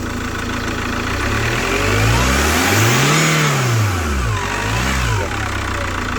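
Chevrolet Captiva diesel engine with AWD revved repeatedly in a workshop, loud and close, with rising and falling pitch sweeps over a steady idle, swelling to a peak in the middle.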